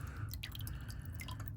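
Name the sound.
goat hair hake brush soaked in water, dripping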